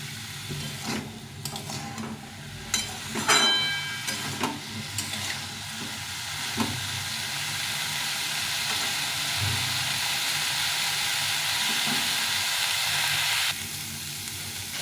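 Onion stalks (spring onion greens) sizzle steadily in a hot pan, with scraping stir strokes and utensil clinks in the first seconds before settling into continuous frying hiss.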